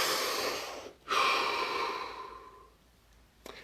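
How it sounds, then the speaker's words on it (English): A single long, breathy exhale like a deep breath or sigh, close and fairly loud, fading out over a few seconds, followed by a brief soft click near the end. "deep breath."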